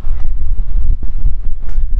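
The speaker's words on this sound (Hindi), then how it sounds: "बहुत ही ज़्यादा हवा चल रही तो हवा की थोड़ी सी आपको आवाज़ आ सकती है।" Strong wind batters the microphone outdoors beside a second-hand Toyota Innova Crysta and Fortuner, a loud, continuous buffeting roar that pulses in gusts throughout.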